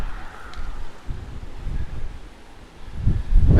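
A strong northerly wind on the Lanzarote Ironman bike course buffets the microphone in uneven gusts, rumbling low and swelling louder toward the end.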